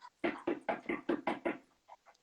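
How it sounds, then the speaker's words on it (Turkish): Knuckles rap on a door in a quick run of about seven firm, evenly spaced knocks, then two softer taps trail off, close and loud with nothing else heard. "O zaman ben başlıyorum kapıyı tıklatmaya."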